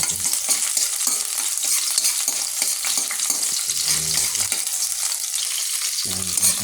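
Chopped garlic sizzles loudly in hot cooking oil while a utensil stirs and scrapes through the pan, a steady crackling hiss with brief clinks and no talking.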